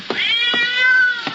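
A cat gives a drawn-out, wavering meow that rises and falls, with a few short thumps around it, close and clear with no talk.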